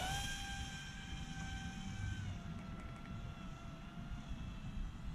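An AP Eazy radio-controlled model plane flies past at night, a faint, thin motor whine with a slowly dropping pitch over a low rumbling background.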